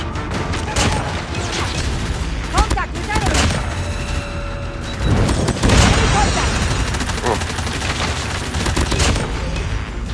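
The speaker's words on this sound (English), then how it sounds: "Beastly explosion." Dense Call of Duty Mobile firefight with rapid gunfire bursts and blasts running throughout, a heavier surge of explosive noise midway, loud and continuous with game effects layered over it.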